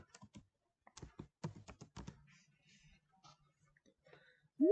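Typing on a computer keyboard while entering spreadsheet data, a short run of close, crisp key taps in quick clusters, then quieter scattered clicks over faint room hum.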